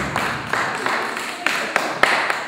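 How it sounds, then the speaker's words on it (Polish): Wedding guests clapping for Marcin at a reception, a dense crowd applause with some sharper individual claps cutting through, fairly loud and close throughout. "Wielkie brawa, wielkie brawa dla Marcina."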